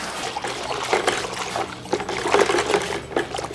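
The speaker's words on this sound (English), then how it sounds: "Now we're just gonna go ahead and spray the car down as well, just so we have some kind of layer of water on it." Water sprayed over a car while it is washed, a continuous hissing, splattering spray that rises and falls in intensity as it sweeps across the body panels.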